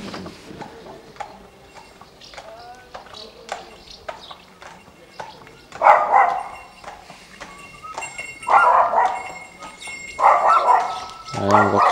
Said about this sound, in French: avec les chiens qui aboient